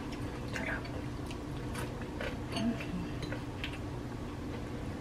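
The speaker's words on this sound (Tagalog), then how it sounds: "Malutong ang dilis." Crunchy fried anchovies (dilis) eaten alongside fried rice, heard close up as a run of small, sharp crunches and clicks spread unevenly through the chewing.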